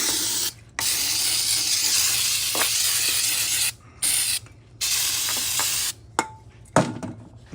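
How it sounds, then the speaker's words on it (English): Carburetor and choke cleaner sprayed into a golf cart gas engine during a rebuild, a loud close hiss in several long bursts separated by short pauses, with a few small clicks near the end. "take me the carburetor and choke cleaner. Route it down so I get no metal shavings in there."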